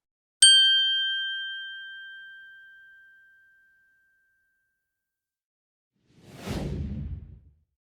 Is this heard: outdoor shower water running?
no